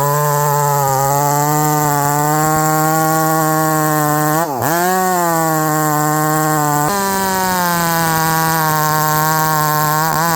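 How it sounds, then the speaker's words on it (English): A ported Stihl MS460 chainsaw runs loud and close with a steady high-pitched engine whine; it briefly dips and recovers mid-run, then settles at a slightly lower pitch. "you guys all know this is Caleb's saw, the 460"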